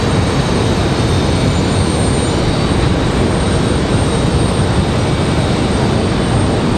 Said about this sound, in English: That 757 finally moving